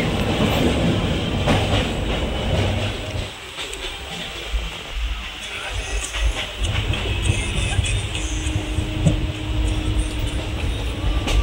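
Inside a sleeper train running from Sealdah to Rampurhat, a continuous loud rumble with rhythmic rail clatter fills the carriage, with faint voices underneath.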